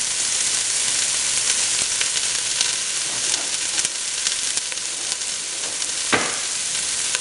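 Onions tossed into a hot pan with smoked turkey for lima beans set up a loud, constant broadband sizzle, with a few faint stirring scrapes and one brief knock near the end.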